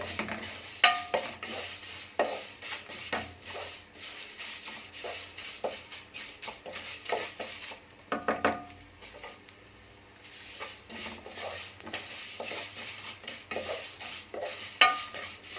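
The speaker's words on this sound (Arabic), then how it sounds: "هننزل بقى بالشعريه، حمر بقى الشعريه معانا كده" Vermicelli browning in oil in a pot for Egyptian koshari, the pot left from frying onions: a steady low sizzle threaded with frequent clicks and scrapes of a spoon stirring against the metal, with a brief quieter stretch midway.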